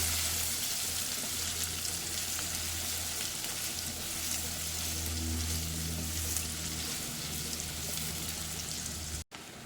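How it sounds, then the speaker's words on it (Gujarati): Two chopped onions frying in a pan for Gujarati-style dal fry, a steady close crackling sizzle throughout with a short knock near the end. "તો આપણે ડુંગળી કાપી લીધી હતી અહીંયા આગળ 2 નંગ, એ ઉમેરી લઈશું। એને સરસ શેકી લેવાની છે બ્રાઉન થાય ત્યાં સુધી"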